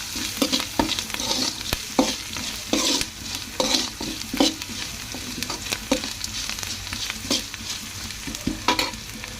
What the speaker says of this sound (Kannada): ಸ್ವಲ್ಪ 1-2 ನಿಮಿಷ ಹಿಂಗೆ ಫ್ರೈ ಆಗ್ಲಿಕ್ಕೆ ಬಿಡೋಣ.